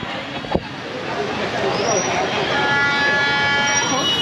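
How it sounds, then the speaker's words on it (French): A train's horn sounds in the distance in Hanoi, sustained tones rising over rumbling rail noise and crowd chatter, loudening toward the end. "on entend klaxonner"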